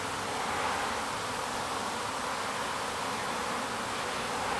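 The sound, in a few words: honey bees flying at hive entrance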